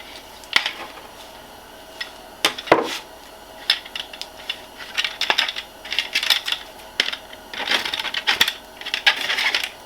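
Metal snips cut a piece out of a DIY gold prospecting classifier, giving sharp clicking snaps and scraping crunches in an irregular run of cuts, close and without talk.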